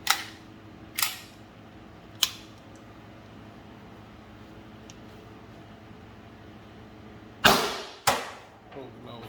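Sharp, loud single shots from a CO2 air pistol with a Grimberg 5-inch barrel and modified bolt, five spaced cracks, two early and two close together near the end, each with a short decay over quiet background.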